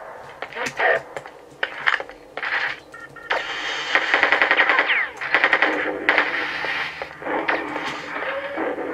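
Rapid machine gun fire from the video game Quake 2, played on Android: dense, continuous bursts of loud mechanical shots with clattering impacts, running almost without break.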